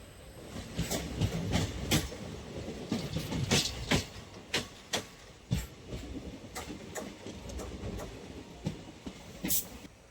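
A passenger train rumbles steadily along the rails between Tiruppur, Tamil Nadu, and Chalakudy, Kerala, with irregular clacks and rattles from the wheels over track joints, heard from inside.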